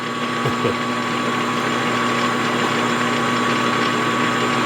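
A small model steam engine idles at low RPM, a steady continuous mechanical hum with a faint rhythmic beat, close and alone with no talk.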